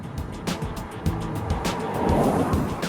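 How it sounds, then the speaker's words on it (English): A Jeep Compass petrol engine with automatic transmission revs hard, a loud, boomy, droning roar that swells and stays close and steady for about three seconds, with no talking. "at higher revs, it isn't as refined as we'd have liked and tends to sound a bit too vocal and too boomy."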